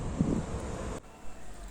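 Outdoor wind buffets the microphone in rumbling gusts that drop away abruptly, then swell again more softly.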